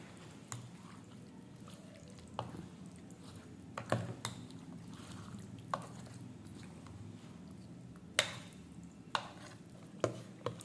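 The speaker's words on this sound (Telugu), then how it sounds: "ఇప్పుడు బాగా మిక్స్ చేసుకోవాలి." A spoon works through fruit custard in a bowl, giving soft wet stirring with scattered sharp clicks and taps against the bowl, close and fairly quiet, spaced irregularly over a low steady background.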